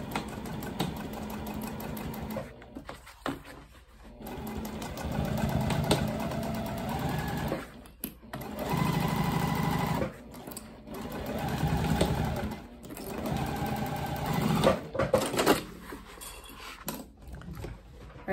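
A sewing machine stitches a tote bag seam with a 1/4 inch seam allowance, running in several loud, steady bursts with brief pauses between them, close up and without talk.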